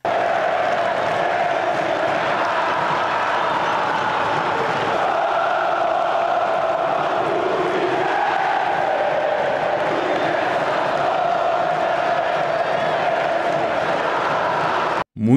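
Fluminense football fans chanting together in a stadium, a dense, loud, continuous roar of massed voices with rising and falling swells that holds steady and then breaks off abruptly at the end.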